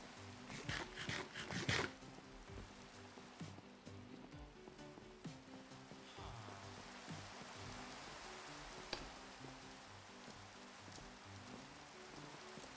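Steady rain falls in the Minecraft modpack Create: The Kingdom, a quiet, even hiss that runs throughout. Soft blocky game sounds and a few thumps sit over it, with no voices.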